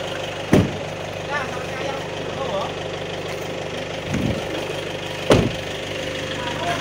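A motorcycle engine idles steadily at close range in a village setting, with a low, even rumble running throughout, a few sharp knocks or clunks breaking in, and people talking nearby.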